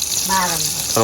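A stingray fish curry bubbling and sizzling in a pan, a close, steady hiss with brief voice-like sounds over it.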